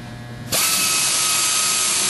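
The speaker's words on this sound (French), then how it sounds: "utilisant une mèche de petit diamètre et percer des trous dans les extrémités de mon dommage" A power drill starts up and runs steadily, driving a small-diameter bit into a composite part during a repair. The whine is loud and close after a brief quieter moment.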